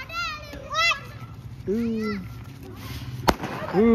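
Children shout and chatter outdoors, and a single sharp firecracker bang cracks out near the end, loud and close.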